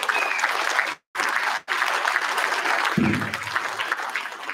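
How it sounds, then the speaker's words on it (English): A crowd applauds employees and members at a tribal State of the Nation address, broad steady clapping briefly cut by two short gaps, then continuing with a low rumble underneath. "Give these employees a round of applause and these members that work for us."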